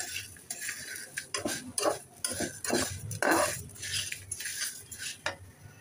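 A metal spoon scrapes and clinks rhythmically against a pan as flattened rice fries with onion and oil over low-medium heat, with a faint sizzle beneath the repeated stirring strokes.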